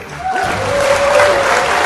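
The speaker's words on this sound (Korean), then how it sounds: "박수" A classroom audience claps for a maths lecturer, a dense steady patter of applause lasting under two seconds, with a voice and a faint tone drifting over it.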